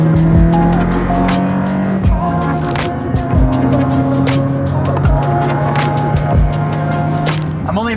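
Custom BMW E30 driving along twisty and tree-lined roads, heard from inside with a steady loud engine drone that shifts pitch as the car accelerates and changes gear, plus road and tyre noise throughout.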